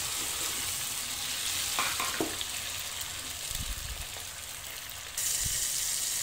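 Browned onion with freshly added tomato frying in a pan for cabbage curry, a soft continuous sizzle with a few spatula scrapes and knocks, growing louder near the end.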